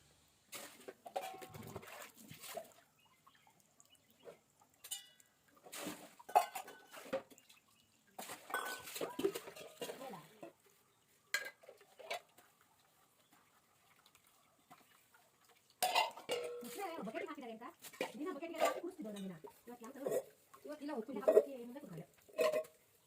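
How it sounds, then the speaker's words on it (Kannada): Intermittent clinks and clatters of dishes being handled and rinsed, in short bursts with quiet gaps, a voice occasionally heard in between. "ಪಾತ್ರೆ ತೊಳಿತೀನಿ"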